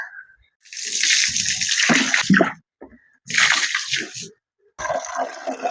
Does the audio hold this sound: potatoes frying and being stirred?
no